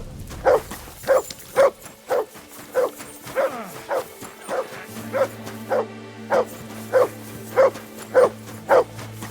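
Mutz, a dog in the video game Kingdom Come Deliverance II, barks steadily and rhythmically about a dozen times at moderate volume over a low ambient game hum.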